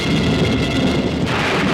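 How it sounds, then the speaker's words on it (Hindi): A violent thunderstorm pours down heavy rain in a village at night, a loud, continuous roar with deep rumbling underneath and no speech. "ऐसी तूफानी बरसात मैंने अपनी जिंदगी में कभी नहीं देखी"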